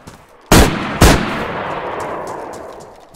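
Two sharp, loud SKS rifle shots in the video game DayZ, about half a second apart, each followed by a long echoing tail that fades out in a dark outdoor setting.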